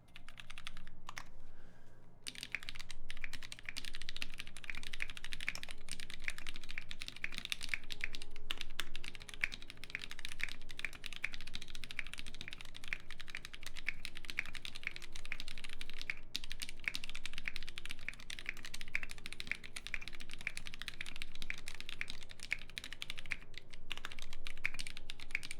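Continuous brisk typing on a Klippe mechanical keyboard fitted with NovelKey Cream switches, close and clear, with dense overlapping keystroke clacks running steadily throughout and no talking.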